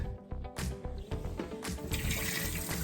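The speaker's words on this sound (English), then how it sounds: "Next I'm going to run some cold water in with the vinegar." Cold tap water pours into a bowl with vinegar to clean short ribs, a close, steady rush of running water with splashing bursts.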